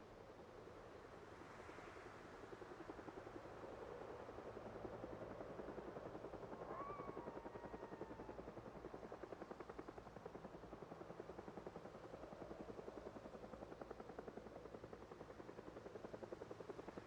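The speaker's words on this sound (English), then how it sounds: "Get the chopper." A helicopter in a video game runs as a steady, throbbing rotor drone with continuous engine noise at moderate volume, close and unbroken for the whole stretch.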